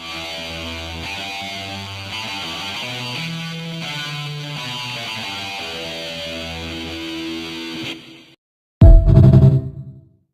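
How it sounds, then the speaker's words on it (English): A video game sound made to play like an electric guitar through an amp and reverb: a sustained, washy, reverberant melodic passage that cuts off, then a short loud burst. "Let's add some reverb, and now we got an electric guitar."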